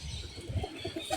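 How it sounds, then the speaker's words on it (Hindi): Several large and small pigeons are kept loose together in a loft, giving soft, close coos and low throaty murmurs with a faint rustle of feathers. "अब ये सारे कुछ इसमें बड़े कबूतर हैं मिक्स छोड़े में"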